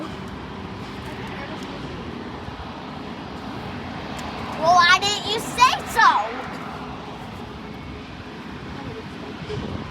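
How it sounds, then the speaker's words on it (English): Airbus A380 airliner flying overhead while plane spotting, a steady engine roar under excited talk, with brief loud rustling bursts midway. "that plane is so big."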